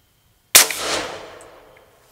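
One loud, close rifle shot cracks out during a deer hunt in Brady, Texas, after a silent wait, its echo decaying slowly over about a second and a half.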